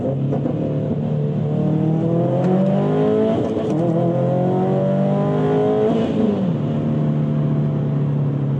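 A 2019/2021 Subaru WRX STI in sport mode pulls hard in second gear, its engine note rising steadily and loud and close, with a brief dip around a shift before climbing again.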